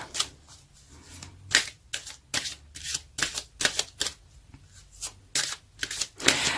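A deck of tarot cards is shuffled in a quick series of crisp riffling bursts, about a dozen close, papery flutters separated by short pauses, with no talking.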